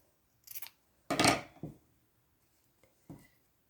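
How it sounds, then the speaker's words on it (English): Scissors snipping off the corner of quilt fabric in a few quiet, brief crisp cuts close by, with a faint click near the end. "I'm going to cut off the corner to the right."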